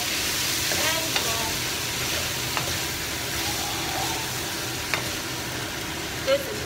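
French beans with minced meat and soy sauce stir-frying over high heat in a wok, a steady close sizzle with scattered clinks and scrapes of the spatula throughout.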